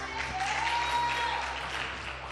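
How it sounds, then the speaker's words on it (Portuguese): Moderate applause from a church congregation, a soft, even patter of many hands clapping at a distance, with a faint tone running underneath and no speech over it. "Vamos aplaudir o Senhor Jesus."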